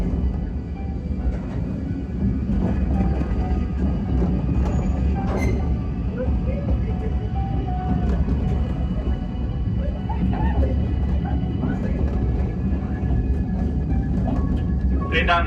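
A steam train at the Hesston Steam Museum runs with a steady low rumble and clatter beneath continuous spoken narration.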